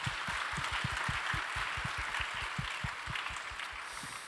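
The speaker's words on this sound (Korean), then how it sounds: "우리 수고하신 부모님도 박수 한번 하겠습니다" Church audience applauding the parents at a youth-group talk event, a dense steady clatter of many hands that fills the room and tapers slightly toward the end, with no voices over it.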